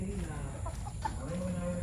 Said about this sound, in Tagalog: Daming manok ni Tito Ben, no?